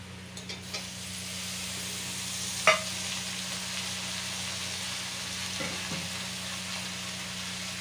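Onions and potatoes fry in a pan with a steady sizzle over a low hum, broken by a few stirring scrapes and one sharp utensil tap.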